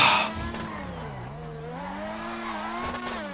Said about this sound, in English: And that exhaust is so raspy.